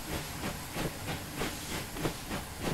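Bulleid Light Pacific steam locomotive hauling Bulleid coaches in Train Simulator 2017, a steady faint hiss of steam with soft rhythmic chuffing pulses about twice a second, no voices.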